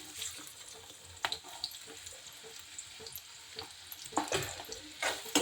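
Chopped onions tipped into hot oil for a fenugreek and chickpea greens dish, a soft steady sizzle with scattered stirring scrapes and a few louder clattering bursts near the end.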